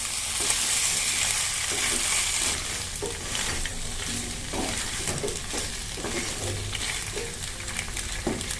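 Cooked pasta and nuts are stirred in a hot frying pan, with a steady sizzle broken by repeated scraping strokes of a spoon, close and even throughout, with no voices.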